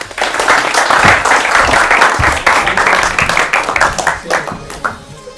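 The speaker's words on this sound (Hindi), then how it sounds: "बहुत बहुत शुक्रिया, तालियां बजाइए" An audience at an Urdu literary quiz programme claps in a dense, steady burst of applause that thins out and fades toward the end.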